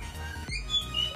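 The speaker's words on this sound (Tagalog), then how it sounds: "hinihingi ng ibon namin sa labas" A single sharp bird squawk from outdoors cuts through a steady low background hum, short and fairly close.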